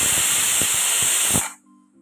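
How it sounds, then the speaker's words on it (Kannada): A pressure cooker whistle releasing steam while cooking sweetcorn, a loud sustained shrill hiss with pulsing bursts that cuts off abruptly after about a second and a half, leaving near silence. "ಲಿಡ್ಡನ್ನು ಕ್ಲೋಸ್ ಮಾಡಿ 4 ವಿಜಿಲ್ ಮೀಡಿಯಮ್ ಉರಿಯಲ್ಲಿ ಇಟ್ಬಿಡಿ"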